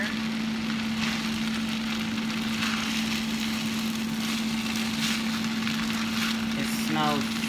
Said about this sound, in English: And then we're just going to stir fry this up